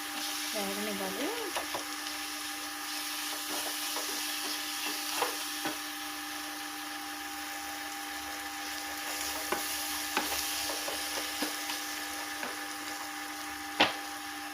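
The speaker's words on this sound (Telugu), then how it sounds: "కారం కూడా వేసి బాగా వేపాలి, వేగనివ్వాలి." Chili powder fries in a pan for an Andhra-style gongura tomato curry, a soft continuous sizzle under a steady kitchen hum, with occasional light clinks and a short spoken voice near the start.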